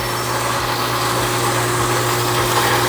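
A BDG Compact 1 mini granulator runs with its blower fan, giving a loud, steady mechanical hum and whir with a faint low thump repeating about once a second, with no talking.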